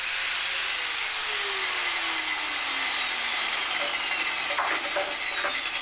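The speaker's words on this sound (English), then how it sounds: "I started by cutting out the most damaged area into a nice regular shape" Angle grinder with a cutting disc slicing out a rusted section of upper front panel on a Talbot Express camper van, a continuous harsh metallic whine with a slowly falling pitch throughout.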